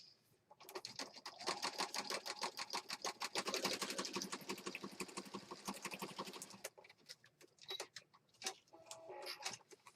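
A sewing machine stitches pieces into a junk journal, giving a rapid, rhythmic clatter that runs loud and close for several seconds and then breaks into a few scattered short bursts and clicks.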